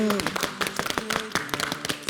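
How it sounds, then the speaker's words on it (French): Sharp, uneven hand claps from a few people on a TV entertainment show, crisp individual slaps in a loose rhythm following a brief voiced tone at the start, close and moderately loud. "Ça s'applaudit."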